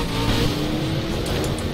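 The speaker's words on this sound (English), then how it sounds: "there goes McLaren" A McLaren race car in a racing video game roars past, a loud sustained engine drone that holds steady through the whole moment with no talk over it.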